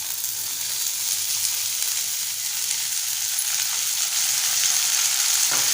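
Peeled lima beans sautéing with softened onion in hot oil: a bright, continuous sizzle with steady crackle and a brief scrape of stirring near the end, close and uninterrupted by talk.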